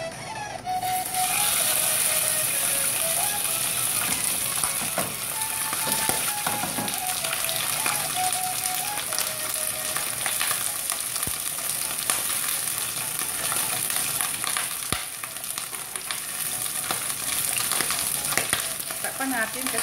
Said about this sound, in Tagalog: Habang siniprito natin yung isda.